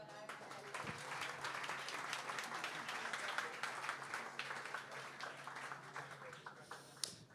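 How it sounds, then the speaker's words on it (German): Sustained audience applause at a German-language astronomy talk evening in Bonn, dense steady clapping from a full room filling the whole stretch and fading slightly at the end. "Und damit einen großen Applaus für Dr."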